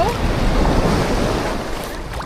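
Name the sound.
ocean waves crashing on the shore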